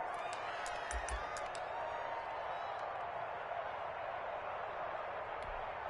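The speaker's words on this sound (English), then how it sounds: "the crowd getting into it as we come up on a big 3rd down" A stadium crowd cheering in a Madden football game before a big third down, a constant roar of voices with scattered whoops and whistles.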